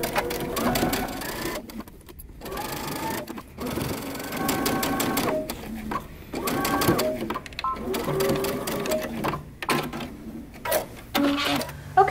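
A sewing machine stitches a pant inseam in repeated bursts of rapid mechanical chatter, each run stopping briefly before starting again, close and clear, with a voice talking faintly between runs.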